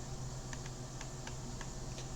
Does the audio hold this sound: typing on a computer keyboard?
yes